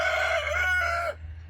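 Backyard chickens kept in pens and a yard, one loud nearby crowing call with clucky tones, ending abruptly.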